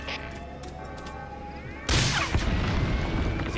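A rocket fired in a video game erupts as a sudden loud broadband blast about halfway through, following a quieter stretch of ambient game tones, then rumbles and crackles on without fading.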